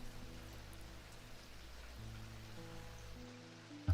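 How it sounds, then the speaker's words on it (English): Soft, steady rain falls in a low continuous patter, faint and evenly spread, with a low hum underneath and a small knock at the very end. "The rain is nice."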